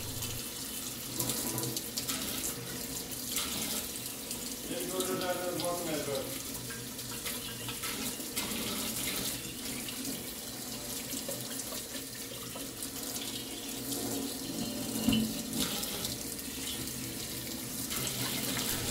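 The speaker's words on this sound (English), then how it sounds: "Under the tap, give it a good rinse with warm water." Warm water runs from a tap as a gas fire heater panel is rinsed under it, a steady, close gushing rush that continues unbroken for the whole stretch.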